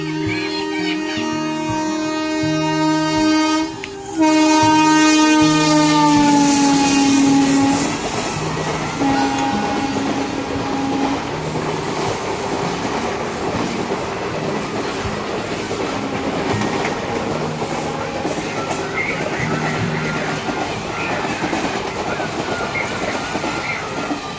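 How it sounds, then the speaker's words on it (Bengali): A train passes on railway tracks in a village setting, starting with a loud close rush and clattering wheels, then settling into a long rhythmic clickety-clack with squealing metallic tones fading over time. "এবার দেখো, ট্রেন আসার সময় হয়ে গেছে"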